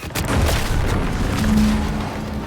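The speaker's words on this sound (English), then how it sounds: "What's that? An explosion?" Explosion in the video game The Outer Worlds 2, a deep rumbling boom rolling on for a couple of seconds, loud and dense with a low sustained tone in the middle.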